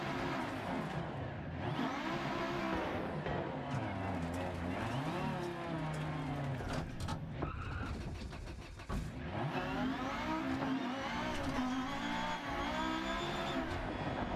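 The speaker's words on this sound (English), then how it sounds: "We'll just keep overdriving this car in the turns." A rally car in Dirt Rally 2.0 drives hard, its engine revving and shifting through rising and falling pitch sweeps, with steady loud tyre and road noise throughout.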